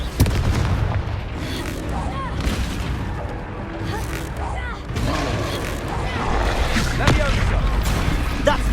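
Confringo fire spell blasts in Hogwarts Legacy, booming game explosions amid dense combat noise, music and effects, with a few sharp hits standing out over a steady loud mix.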